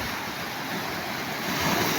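Sea waves washing on a shore, a continuous broad rushing surf with wind, steady and fairly close, no voices.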